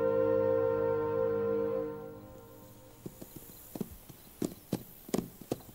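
Wild horses walking, hooves clip-clopping in uneven, scattered steps that grow more distinct toward the end, following a fading low tonal sound with no talk.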